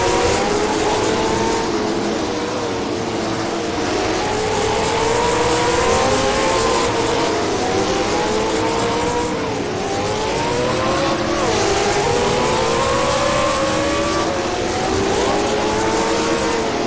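Late model race cars circling the Jefferson Speedway track, engines droning steadily with rising and falling pitch sweeps as cars accelerate and pass, a continuous loud roar throughout.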